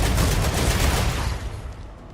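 Dense, continuous turret gunfire in a video game, a loud sustained fusillade of rapid shots that gradually thins and fades over the couple of seconds.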